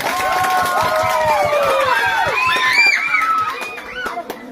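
A crowd at a school gathering honoring the teachers of SD Negeri Helariki erupts in loud, continuous cheering, with high, swooping shouts and whoops layered over a dense wash of voices, easing off near the end.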